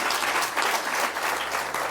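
A crowd applauds a woman onstage at a motivational talk, with steady, dense clapping that fills the whole stretch at close range and no talking.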